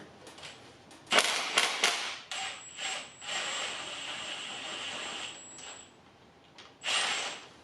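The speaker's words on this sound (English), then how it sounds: "we want to take this bolt out over here" A bolt being worked out of a Honda Civic Si transmission case during a rebuild, heard as close, quiet metallic clicks, scrapes and ratcheting bursts coming in uneven short spells with pauses between.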